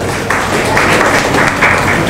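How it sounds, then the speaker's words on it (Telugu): An audience at a Lions Club district regional meeting claps in sustained, dense applause, loud and close throughout. "ఒకసారి చప్పట్లు కొట్టండి."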